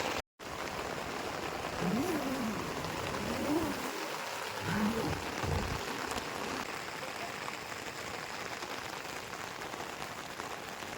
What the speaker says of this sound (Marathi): आणि आता पाऊस इलो